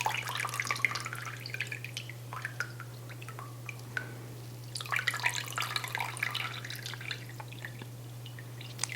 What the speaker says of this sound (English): I guess I could just squeeze this straight back into the pot.